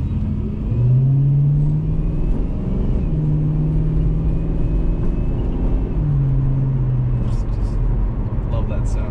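Volvo 240 fitted with a Cobra engine runs steadily with a deep, loud exhaust rumble, its note rising and settling in a few revs across the stretch.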